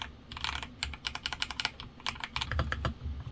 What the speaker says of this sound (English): NX Snow linear switches, which I really love, just listen to them